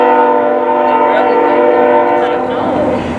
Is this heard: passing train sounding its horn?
yes